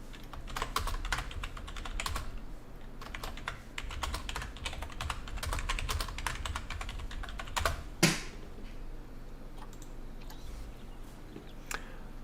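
Steady, rapid clicking of keys on a computer keyboard, continuous and close, with a brief louder knock partway through and no voices.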